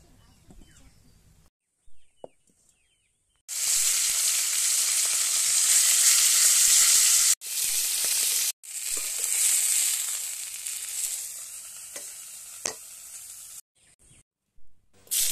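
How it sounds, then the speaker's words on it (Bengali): Chopped onions hit hot oil in a wok (kadai) in a village kitchen, bursting into a loud, steady sizzle and fry that runs for several seconds, broken by brief pauses and faint clinks, without talk. "আমি কড়াইতে দিয়ে দিচ্ছি পেঁয়াজ কুচি"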